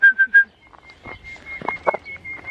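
Peacock calling outdoors on a Mallorca mountain climb, three short, shrill, piercing cries in quick succession, loud and fairly near, followed by a faint thin tone under quieter sounds.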